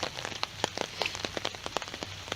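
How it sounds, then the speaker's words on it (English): Heavy rain pouring down on the grounds of a former college site in Appalachia, a dense steady hiss of drops with sharp spattering hits throughout, close and loud with no talking. "It's raining like crazy"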